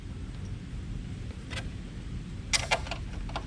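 A J&L-supplied bolt on the oil separator bracket of a 2024-2026 Ford Mustang EcoBoost is started with a ratchet, a few quick clicking bursts over a quiet background, close and fairly faint.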